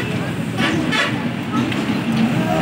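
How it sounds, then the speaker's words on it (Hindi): Loud highway traffic roars past a goat farm beside the Indus Highway, a dense steady rush with passing vehicles and horn toots while people talk nearby. "शोर है ना, ट्रैफिक का शोर बहुत ज़्यादा है"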